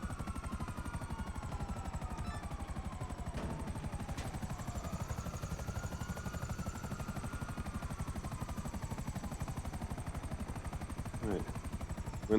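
A helicopter flies in the GTA V video game, its rotor thudding in a fast, steady, loud chop for the whole stretch, with a faint high engine whine above and a brief burst of sharper sound near the end.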